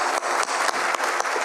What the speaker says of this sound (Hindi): एक बार जोरदार तालियां बताइए